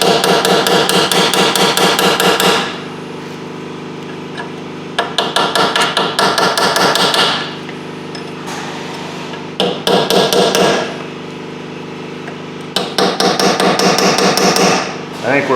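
Rapid metal-on-metal hammer strikes on a punch worked around a Honda Accord front wheel bearing, coming in four fast, loud bursts separated by short pauses.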